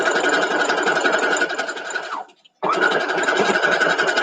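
Sewing machine stitching sashing onto 9 patch blocks, a fast steady mechanical whir that stops briefly and then resumes at the same pace, close and alone.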